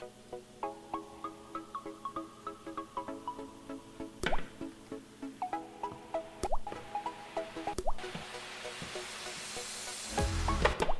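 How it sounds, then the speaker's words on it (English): Eggs lowered one by one into a pot of boiling water, a string of close plops and soft knocks with watery bubbling between them, ending in a brief louder splash and hiss. "Okay, it looks like the water has started to boil, so I'm gonna start putting the eggs in."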